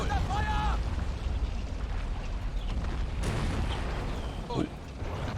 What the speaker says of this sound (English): Is that an enemy vehicle firing?